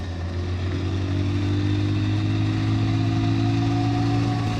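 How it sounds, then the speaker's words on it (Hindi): A 27-year-old Hero Honda Splendor Plus motorcycle running on E20 ethanol cruises at about 80 km/h, its engine droning steadily with a low constant hum and rushing wind noise, unbroken and with no talk. "80 की स्पीड में चला रहा हूँ मोटरसाइकिल में अपनी"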